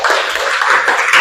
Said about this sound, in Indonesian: Tepuk tangan buat Dharma.